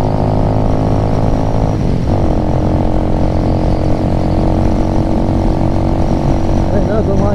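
A Venom Ghost Chopper 250 motorcycle out on a short ride in warm weather, its small engine droning close and loud with a steady harmonic hum and a brief dip in pitch partway through.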